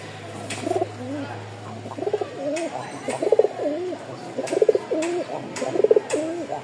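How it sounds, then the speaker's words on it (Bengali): A male flying pigeon coos in a steady rhythmic series of deep, rolling calls, close and fairly loud over a faint background hum. "এই দেখেন মার্শাল্লাহ ডাকতেছে"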